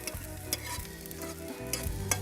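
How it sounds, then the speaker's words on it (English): Seasoning sautés in a non-stick frying pan for crayfish wraps, giving a steady close sizzle broken by repeated scraping stirs of a utensil against the pan, with no talk. "You just use a non-stick so it doesn't really stick to the pot and saute your seasoning."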